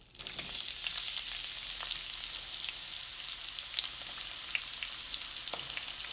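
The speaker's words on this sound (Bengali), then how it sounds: "দুটো দু টুকরো তেজপাতা তিনটা এলাচি দু টুকরো দারচিনি আর দিয়ে দিচ্ছি পেঁয়াজ কুচি" Chopped onion, bay leaves, cardamom and cinnamon sizzle in hot oil in a pan, a steady bright crackle with scattered pops throughout.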